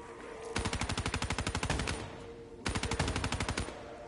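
Rapid automatic gunfire from a zombie-mode shooter game on PS4, two sustained bursts of evenly spaced shots, loud and close, with a short pause between them.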